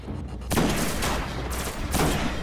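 Sniper rifle fire in the video game Destiny, with two heavy, booming shots about a second apart, loud and close, each trailing into a long rumbling tail over constant background game noise.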